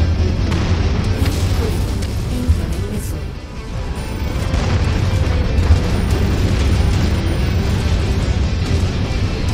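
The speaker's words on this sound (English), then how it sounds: "Incoming missile." Missile explosions in MechWarrior 5: Mercenaries, a loud, sustained rumbling boom over dense combat noise that dips briefly midway and then swells back to a steady roar.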